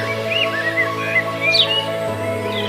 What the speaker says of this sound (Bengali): শুনতে পাচ্ছেন দূরে কোথাও পাখির ডাক